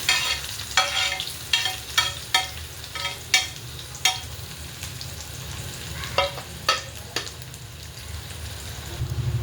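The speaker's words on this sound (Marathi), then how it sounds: "लगेच असा बारीक चिरलेला कांदा टाकून घेऊया" Finely chopped onion sizzles in hot oil with cumin seeds in a pan, a steady loud hiss broken by a series of sharp clattering stirs and scrapes, with no one talking.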